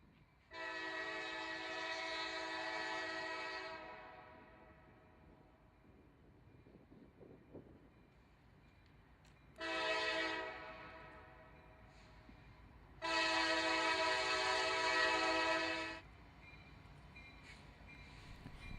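Norfolk Southern freight train passes at low speed while its horn sounds three times: a long blast, a short one, then another long one, loud over the quieter rumble of the rolling cars.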